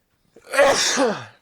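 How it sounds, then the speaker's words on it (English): After a moment of silence, a loud nearby sneeze erupts, with a breathy wind-up and a drawn-out, voiced release. "Hang on, I gotta sneeze."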